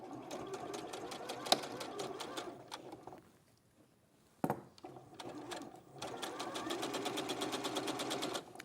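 A sewing machine stitches bias binding onto a floral maze quilt in rapid, even bursts of mechanical clatter. It pauses midway with a sharp clunk, then resumes, while birds coo faintly in the background.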